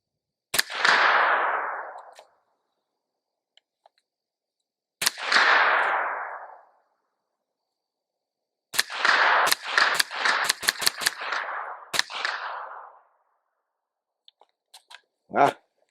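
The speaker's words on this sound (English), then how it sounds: "Of course, I'm just shooting at a target." A rifle fitted with an ELF match trigger fires at a target outdoors: loud, sharp reports with echoing tails, first two single shots, then a fast burst of rapid shots, and a final shot.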